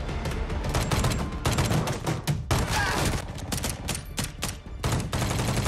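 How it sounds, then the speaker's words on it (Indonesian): Sustained, loud exchange of gunfire in an action film as defenders return shots, dense overlapping bangs and rapid bursts filling the whole stretch without any talking. "Simon dan Freddy membalas tembakan."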